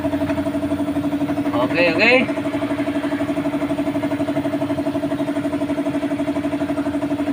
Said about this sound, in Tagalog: Honda Beat po ating gamit ng motor.